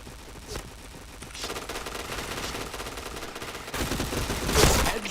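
Rapid automatic gunfire from a shooting video game, bursts of repeated shots that grow louder toward the end, heard without talk.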